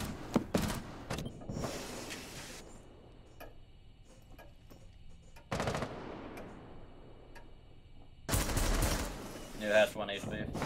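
Rapid bursts of automatic gunfire from the Maestro light machine gun in a tactical shooter game, loud clustered volleys separated by quieter stretches, with players talking over comms.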